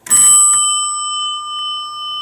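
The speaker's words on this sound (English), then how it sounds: "And then finally on the right we have an Adams bell." An Adams elevator bell gives a loud, clear ding, then a quick second tap. Its bright ringing tone lingers and slowly decays, heard close up and alone.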